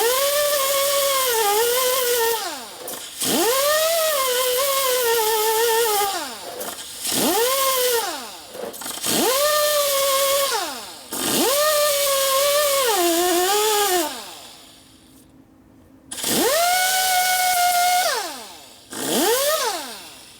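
A power grinder works on a 1970s Harley Sportster kicker ratchet plate. The loud whine rises and falls in repeated passes of a few seconds each, with brief pauses between, heard up close without talk.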